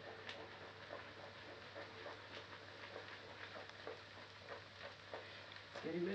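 Liquid nitrogen boils off into an ice cream mix, giving a faint, steady sizzling hiss with soft crackles and bubbling that swells slightly louder at the end.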